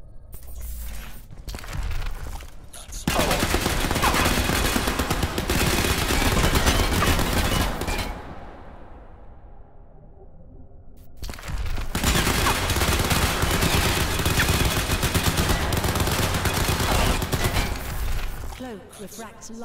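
Sustained gunfire from Crysis 3 striking nanosuit armor, with dense bursts of shots and impacts filling long stretches. The firing breaks off for a few seconds midway, then resumes just as heavily.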